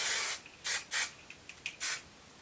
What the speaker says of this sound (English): I'm going to take some of this Sebastian Reshaper hairspray. I'm going to give my hair a very light spritz.